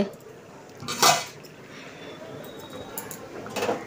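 Water spinach is stirred with fried onion in a pan, the spatula giving a sharp clatter, then quieter scraping and a second clank near the end.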